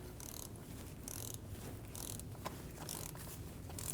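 Rapid ratchet clicking as a nut is snugged onto the alternator stud of a 2012–2022 Volkswagen Passat 2.5L five-cylinder, steady close repeated pawl ticks in short bursts with no voices.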